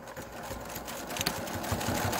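Sewing machine stitching binding onto the raw edge of a quilt, a steady close mechanical whir running continuously for a couple of seconds with no talk.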